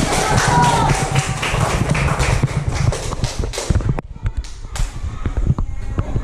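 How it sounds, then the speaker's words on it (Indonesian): Students clapping in a classroom for a classmate who answered correctly, a dense burst of many hands that keeps going for about four seconds before thinning to a few scattered claps. "Tepuk tangan dulu Sajidah Rahman."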